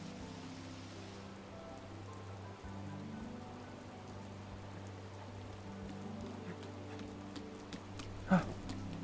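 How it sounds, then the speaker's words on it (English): Rain in Breath of the Wild at Zora's Domain, a steady soft patter on surfaces mixed with low background music, with a brief louder knock near the end. "I love the rain effects as well."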